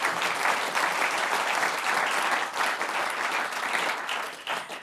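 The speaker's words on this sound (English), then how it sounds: "please give a big round of applause to my wonderful panelists" An audience at a panel discussion on the end of easy money applauds the panelists: dense, steady clapping that stays loud throughout, easing slightly near the end.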